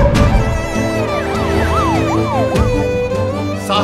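An ambulance siren wails loud and close, its rising and falling sweeps running continuously over a dense, steady wash of background sound with no speech.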